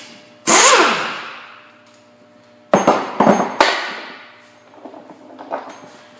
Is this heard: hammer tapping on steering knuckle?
yes